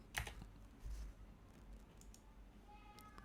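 Quiet, close typing of a web address on a computer keyboard, a quick run of soft key clicks with a brief heavier tap near the start.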